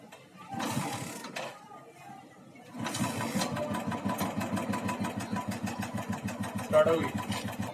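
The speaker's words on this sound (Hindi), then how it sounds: "तो हम भी ऐसे ही स्टार्ट करेंगे किक से" A Royal Enfield motorcycle engine fires after kick-starting, settling into a loud, steady, rapid thumping idle that runs throughout, with a brief burst of cranking before it catches and a voice talking over it.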